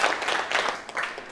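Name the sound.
classroom applause for a classmate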